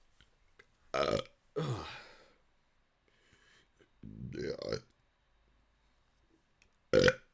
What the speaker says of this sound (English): There, you got a lot of burps there.